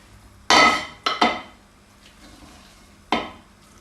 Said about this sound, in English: add the vegetables to the quinoa, mix it all in together